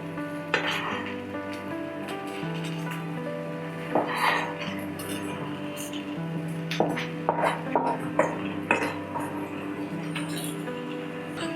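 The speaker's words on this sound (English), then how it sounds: "I'm gonna add the minced beef into this pan." Minced beef goes into a pan of fried masala and onions, with clinks and scrapes of a utensil on the pan over a soft sizzle. Tonal background music plays under it.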